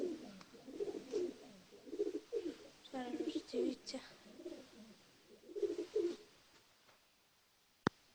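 Pigeons in a dovecote coo softly in repeated throaty bursts. A person speaks briefly among them, and a sharp click sounds near the end.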